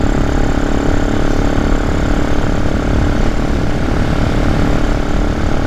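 A supermoto motorcycle riding fast on fresh pavement, a loud continuous engine drone with heavy wind rush, steady throughout with no talk.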